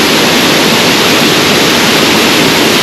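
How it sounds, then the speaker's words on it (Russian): A waterfall near Tkhagabsh village in Lazarevskoye, Sochi, roars as a loud, steady broadband rush of falling water, close by and unbroken, with no voices. "А просто покажу вам этот водопад под определенным углом."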